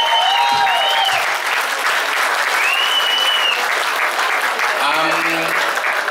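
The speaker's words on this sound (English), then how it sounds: "So everyone just give these guys a round of applause, please." Loud, continuous audience applause at a football club's 2022 presentation night, with a few voices and whistles rising briefly over the clapping.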